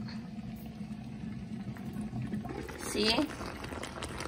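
Soup with cabbage and dumplings boiling in a pot, a soft steady bubbling hiss heard up close, with a brief spoken word partway through.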